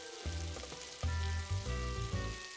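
Garlic and green onion sizzle steadily in a pan of cooking oil mixed half and half with perilla oil, a close, continuous frying crackle with no talking over it.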